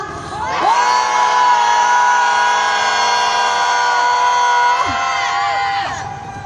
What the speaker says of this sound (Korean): 5초만 크게 함성 질러볼까요?